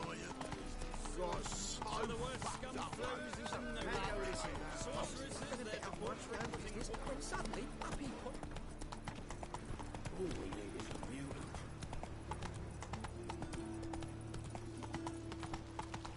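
A horse galloping in The Witcher 3 on PS4, rapid continuous clip-clop of hooves running throughout under game music and a voice talking, fairly close and steady.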